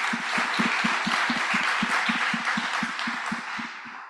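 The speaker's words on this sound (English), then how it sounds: "So yeah, round of applause." Audience applause at a partnership summit, a dense, sustained wash of many hands clapping with a steady rhythmic beat running through it, fading slightly at the end.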